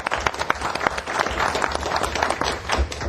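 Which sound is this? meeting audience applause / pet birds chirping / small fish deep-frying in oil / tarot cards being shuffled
meeting audience applause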